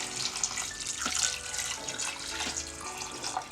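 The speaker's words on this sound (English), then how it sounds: "I'm just going to add in some water." Tap water runs and splashes into a pot of beef stew with potatoes and sweet potatoes, a close, steady gurgling pour with small splashes and no talking.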